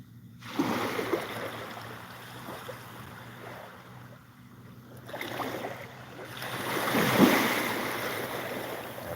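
Surf rolling and breaking on a beach in Thailand at sunrise, two broad swells of wash rising and fading over steady wind-blown water noise, no voices.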